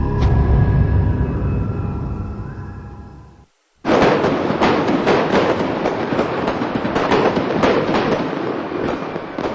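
Holiday fireworks burst at the Golden Temple in a dense, continuous crackle of rapid pops and bangs. A brief silence breaks the noise, then the volley resumes loud and sustained.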